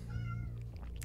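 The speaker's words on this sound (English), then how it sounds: "If there's too much meowing, let me know." A cat gives a short, quiet meow, close to the microphone, with a faint shift in pitch partway through.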